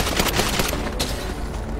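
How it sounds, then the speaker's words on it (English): Rapid gunfire outside a courthouse in the video game GTA 5 RP, a dense loud fusillade of overlapping shots throughout the short burst, heard close. "we do have gunshots out in front of the courthouse"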